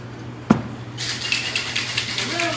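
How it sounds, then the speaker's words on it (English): A cocktail shaker holding a raspberry chocolate martini is shaken after a quick knock, with close, rhythmic rattling bursts and a voice faintly heard near the end. "Give that a little shake."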